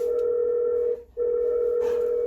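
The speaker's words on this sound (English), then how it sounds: "there's a phone call coming. The phone's connected to the Bluetooth." An incoming phone call rings through the Bluetooth audio of a Mitsubishi Triton L200 Strada ute, a steady electronic tone with one brief gap, loud and continuous inside the cabin.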